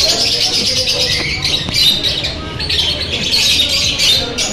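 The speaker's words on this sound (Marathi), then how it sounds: "बघू शकताय पोपट कसले मस्त आहे" Parrots squawk close by outdoors near a hotel in Miraj, Sangli, with harsh repeated calls and chirps over a background hiss.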